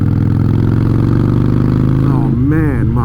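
A Harley-Davidson Iron 883 motorcycle engine rumbles loudly up close in a steady low throb, then rises in pitch as it revs near the end, with a voice talking over it.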